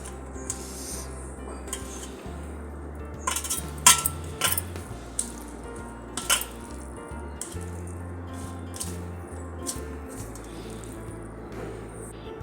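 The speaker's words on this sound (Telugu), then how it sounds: "ఇదిగోండి మెంతికాయ అన్నం కలుపుతున్నానండి." Hot rice is mixed with fenugreek mango pickle, bringing soft scraping and scattered sharp clinks of a utensil against a dish at close range, irregular and unaccompanied by speech.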